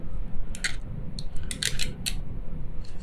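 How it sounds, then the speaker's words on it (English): Thin protective plastic film crackles in short, close, crisp bursts as it is peeled from the screen of a Huawei Watch Fit, with soft room noise between the bursts. "it has some foil on top of it, of course, protection foil that I want to get rid of"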